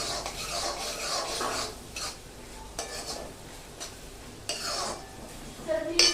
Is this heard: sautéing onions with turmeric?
yes